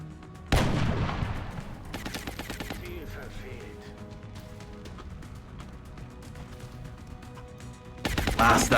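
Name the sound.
gunfire in the video game Long War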